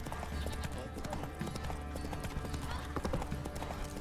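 Rhythmic hoof clip-clops of a horse walking in The Witcher 3 video game, steady and fairly quiet, with occasional snorts and a faint background hum.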